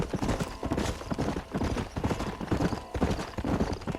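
A horse gallops in the video game Red Dead Redemption, with rapid, rhythmic hoofbeats pounding steadily and close for the whole span, plus faint harness and ambient game noise.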